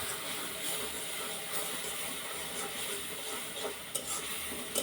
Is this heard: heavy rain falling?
no